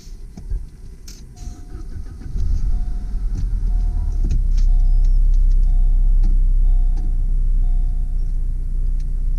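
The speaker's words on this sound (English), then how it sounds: "Starts up with no problems." A 1993 Saab 900S cranks briefly and catches, then settles into a steady, close idle rumble that continues to the end.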